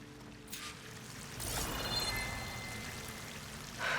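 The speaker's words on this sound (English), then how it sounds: "That waterfall must be coming from somewhere." Rushing waterfall in the Horizon Forbidden West game world, a steady broad wash of falling water that swells louder midway and holds as a continuous near roar, with no voices over it.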